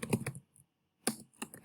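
Close typing on a computer keyboard, a few quick keystroke clusters separated by a short pause, with no talking.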